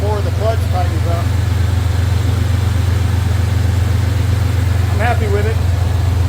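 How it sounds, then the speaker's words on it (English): A 1989 Chevrolet Silverado engine with a new cooling fan and clutch idles steadily and loudly up close, its low drone constant throughout while someone speaks over it. "Feels a really good airflow just at idle, even before the clutch tightens up."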